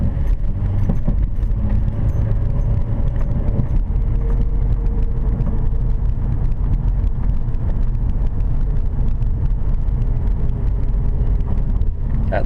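A driver's car pulls away from a complete stop at a stop sign, its steady engine and road rumble filling the whole stretch with faint wind noise and a light jangle of keys riding over it.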